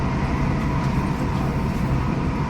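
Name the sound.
train ride through French countryside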